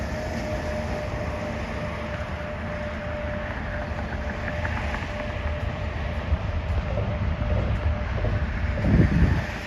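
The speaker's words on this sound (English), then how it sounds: "We're going to hear a lot of truck traffic for the next mile." Heavy truck traffic rolls past on a town road during a walk, a steady broad roar of engines and tires that swells toward the end as a vehicle draws close, with no talking.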